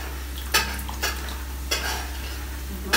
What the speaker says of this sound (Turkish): Kızardı mı Sinan?